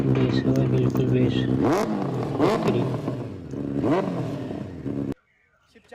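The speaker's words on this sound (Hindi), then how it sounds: "सिर्फ 4000 RPM तक ही मैंने रेप करा था" Benelli 600i motorcycle engine revved to about 4000 RPM, three loud rising blips over a rumbling idle close by, then an abrupt cut to near silence.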